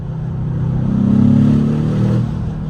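An Aston Martin DBX S SUV engine surges under acceleration, a deep, steady growl swelling to a peak midway and easing off near the end, close and loud with no voices.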